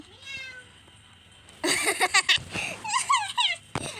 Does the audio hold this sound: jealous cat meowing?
yes